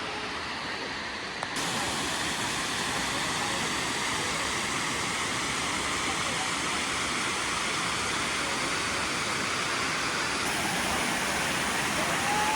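A tall waterfall in Utah pours down as a loud, steady roar of rushing water, broad and continuous throughout with no other sounds standing out.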